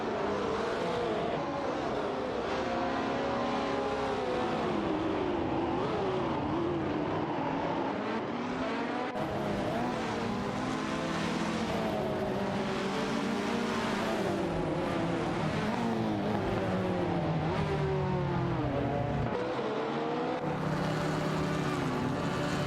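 Race cars in an AI racing video game roar continuously as they drive and overtake, engine pitches rising and falling in sweeping waves, loud and unbroken with no speech.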